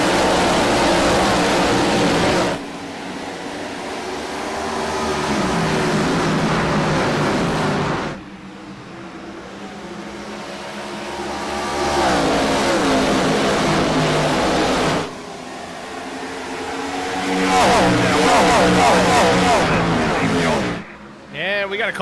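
Race cars in an IROC Challenge Series race accelerating after a green-flag restart at Nashville Superspeedway: loud engine roars rise and fall in several waves as cars sweep past, with a commentator talking over them.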